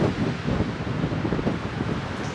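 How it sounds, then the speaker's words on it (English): Strong wind at a viewpoint at Tonto Natural Bridge in Arizona roars into the microphone as loud, continuous buffeting gusts, with no one speaking. "It's very windy."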